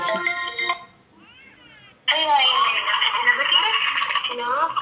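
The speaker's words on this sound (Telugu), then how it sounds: "నా ఫ్రెండ్ కాల్ చేస్తుంది ఫస్ట్ కాల్" A phone rings with an incoming call from a friend, a bright repeating melodic ringtone that stops, leaves a short gap with faint sound, then a louder, denser burst of tune.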